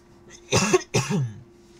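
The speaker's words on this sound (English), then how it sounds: "I've been dealing with this nasty cough like all week." Two sharp, harsh coughs close to the microphone, one right after the other, in an otherwise quiet room.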